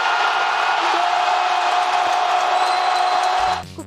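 A large stadium crowd in Barcelona roars and cheers at a Spain national team match against Albania, a dense, loud and continuous wall of voices that cuts off abruptly near the end.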